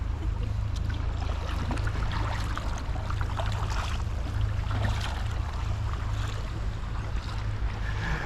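A kayak moves off across the water near Portland Island, with steady broadband wash and wind noise over a low droning hum, continuous and fairly loud, with no voices.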